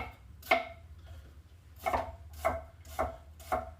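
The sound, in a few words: knife slicing an onion on a cutting board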